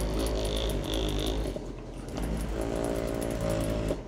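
A handheld electric mixer whirs steadily while stirring Tamiya X34 metallic brown paint for an airbrush, a continuous close buzzing motor drone with no talk.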